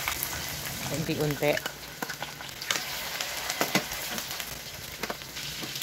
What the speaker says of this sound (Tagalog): Okay, mapainit na tayo ng mantika. At saka natin iprito to